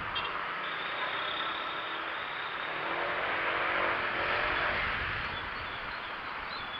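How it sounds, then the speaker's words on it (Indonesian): A car passes on a congested road during a camping road trip, heard as a steady broadband rush of engine and tire noise that swells toward the middle and then eases off. "Oke, ini mobil."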